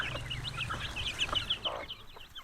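Hungry native chickens cluck softly at close range in a short, irregular burst of low clucks and chirps.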